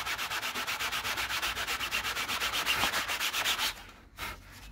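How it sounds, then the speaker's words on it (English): Rhythmic back-and-forth sanding strokes across a Solartex-covered model aircraft, steady and close, each pass a soft rasping rub, stopping near the end with a brief scrape. "we go over the whole model sanding it"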